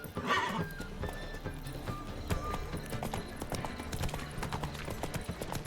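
Geralt's horse Roach trotting with steady clip-clop hoofbeats and an occasional whinny in The Witcher 3, over game music, continuous and close.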